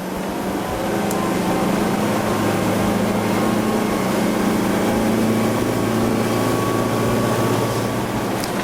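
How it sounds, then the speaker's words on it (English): A Fairline Targa 44 Open sports cruiser runs on 300 hp Volvo D4 engines with stern drives, giving a loud, steady, close engine roar and rushing water that holds unbroken throughout, with no talking. "This boat is fitted with 300 horsepower Volvo D4 engines and stern drives, so let's see what it can do"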